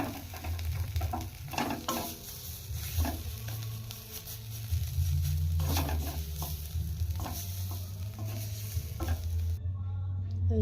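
Flat bean paste catching on the bottom of a pan is stirred often, producing rhythmic scraping strokes over a soft sizzle and a low steady hum, fairly quiet throughout.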